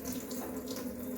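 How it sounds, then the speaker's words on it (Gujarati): Running tap water pours into a bowl as mung dal is rinsed by hand, a brief close steady splash and trickle with no voices. "5-6 વાર પાણીથી ધોવા પડશે અને બધા ફોતરા આ રીતે નીકાળવા પડશે"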